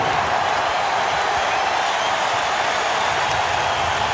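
Dense, steady crowd roar fills a basketball arena during Game 7 of the 2000 Western Conference Finals between the Lakers and Trail Blazers, a continuous loud wash of cheering with no break and no nearby voices.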